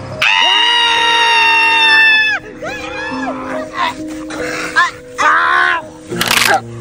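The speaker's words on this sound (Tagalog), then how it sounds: "Hala, bakit parang may sumisigaw?" A loud, sustained scream with a rising tone opens, followed by shorter, broken cries and strained vocal sounds, in a staged horror scene.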